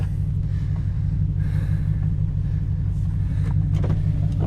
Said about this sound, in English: So we're out here pushing the Subaru in the shop with the truck.